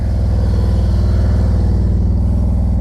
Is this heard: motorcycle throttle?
yes